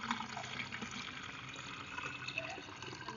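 Water pours steadily into a 1-litre plastic bottle holding seaweed fertilizer, a continuous close splashing and gurgling fill with no talking.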